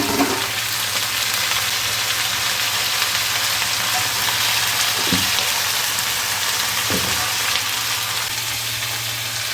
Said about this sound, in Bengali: এবার আমি সবজিগুলোকে ছেড়ে দেবো